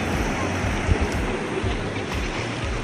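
Strong ocean waves at Kisami Ohama beach in Shizuoka churn and roar in a continuous wash of surf, with wind buffeting the microphone and faint voices in the background.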